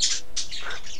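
A bird chirps in a few quick, bright bursts, close and fairly loud, with no talking over them.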